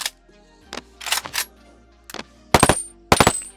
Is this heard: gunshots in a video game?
yes